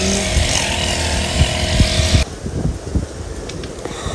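A grass cutter running along a road beside a fishpond, a loud steady motor whine with a buzzing drone that drops in intensity partway through, close and continuous.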